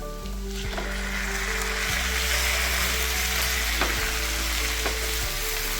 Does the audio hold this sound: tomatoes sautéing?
yes